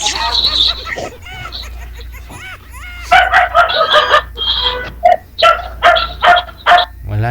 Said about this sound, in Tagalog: Pati tahol ng aso mamaya